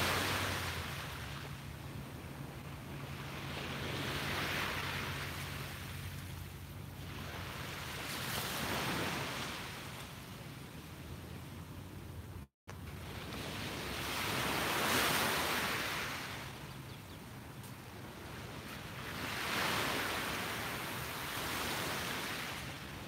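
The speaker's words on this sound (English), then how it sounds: "Let's soak in the sounds of the waves" Ocean waves roll onto a beach, each slow surge of surf swelling and fading in a steady rhythm under a soft windy hiss, with no voices.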